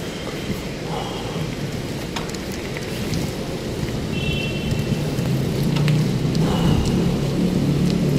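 Heavy rain pours steadily in Makati City during Typhoon Enteng, a dense, continuous hiss with scattered drops and faint passing traffic that grows slightly louder over several seconds.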